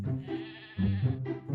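Goat bleating close by in a rural Indian setting, three quavering calls in quick succession, clear and alone.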